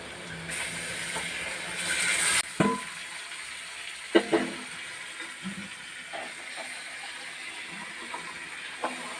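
Chicken meat fries in a wok with a soft, steady sizzle, broken by a few scattered clunks and scrapes as it is stirred. No one speaks.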